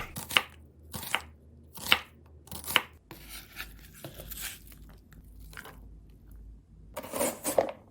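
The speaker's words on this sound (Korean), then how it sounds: "저는 양파가 작아서 한 개를 사용했는데 반 정도 썰어주세요." A knife slices through a small onion on a cutting board, with crisp, evenly spaced chops near the mic, a pause of softer handling, and then a closing burst of quick cuts.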